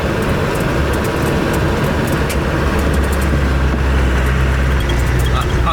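A Land Rover Defender engine labours steadily uphill on a high mountain track near a summit, a loud continuous low drone with rumbling road noise throughout and no break.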